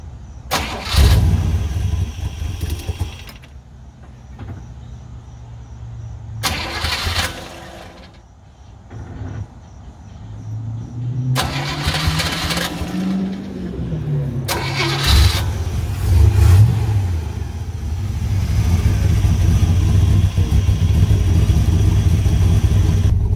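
A 1966 Chevrolet Corvette engine cranks and starts in several bursts, then catches and revs, settling into a loud, rough idle that runs steadily to the end; no talk.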